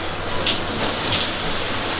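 Cold shower water pours steadily during a rinse-off, a loud close hiss of spray hitting skin and surfaces with no breaks or voices.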